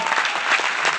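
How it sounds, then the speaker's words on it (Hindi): Audience applause filling a seminar hall, steady dense clapping from many hands for the full second, loud and close. "एक बार बढ़िया ताली बजाएंगे,"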